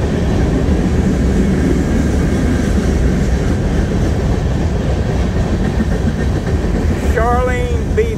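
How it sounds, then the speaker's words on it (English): A train rolls past close by, a loud steady rumble with rail noise filling the whole stretch, and a brief high squeal near the end. A voice speaks over it. "Kind of loud next to that train."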